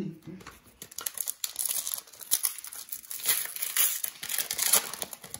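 Foil wrapper of a hockey trading card pack being torn open and crinkled by hand, a close, continuous crackling rustle with a voice talking at the start.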